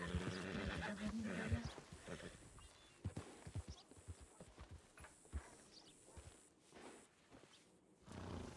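Hoofbeats and snorting of a tense horse on a ranch in a roleplay video game, with irregular clopping steps and rustling, fairly close, heard under quiet talk.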